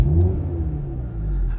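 An Audi TT RS facelift's engine fires up and revs, a loud, deep continuous rumble close by with a steady low drone throughout.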